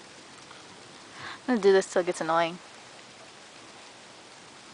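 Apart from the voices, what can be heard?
rain pouring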